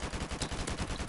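Rapid automatic fire from an AK rifle in a video game, a dense stream of shots fired in quick bursts, loud and close throughout.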